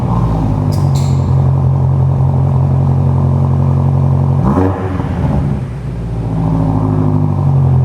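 A powerful BMW M5 F90 V8 engine (625 hp) rumbles at idle nearby, then is revved with a rising and falling roar before settling back to a deep idle.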